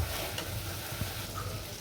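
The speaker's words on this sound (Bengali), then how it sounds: "এখন এই মশলাটি আমি একদম ভালো করে ভেজে নেব" Spice masala for sheek kabab fries in oil in a pan with a steady, close hiss, broken by a few soft scrapes of stirring.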